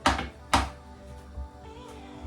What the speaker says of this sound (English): We're gonna cut it up in small pieces to get it in the blender.